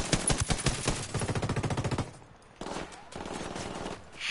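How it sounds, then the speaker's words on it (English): Rapid bursts of gunfire from a shooter inside a building during a MILSIM patrol, a fast rattling volley followed by a pause and another scattered burst, fairly close and loud. "He's shooting at us."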